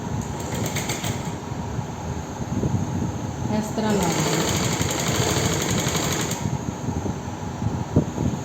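A sewing machine stitches trim onto the neckline of a ladies' suit, running as a steady rapid whir in short bursts with some talk over it.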